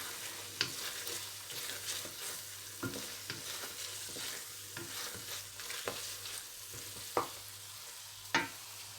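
Baingan bharta, a mashed eggplant dish, is stir-fried in a pan, with a soft sizzle and sharp intermittent scrapes and clinks of a spatula stirring against the pan, fairly quiet and without speech.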